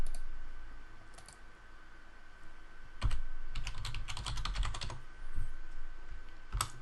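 Keystrokes tapping out a password on a computer keyboard, quiet clusters of quick clicks in short bursts with pauses between, faint and close, no voices.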